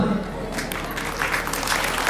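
An audience at a Shiv Maha Puran katha religious discourse claps in a dense, continuous patter while a voice speaks over the applause.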